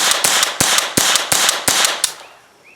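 Armalite AR-7 takedown survival rifle, the Israeli pilot's rifle, fired in a rapid string of about seven sharp, loud shots, each cracking close by and ringing briefly before the last echo fades.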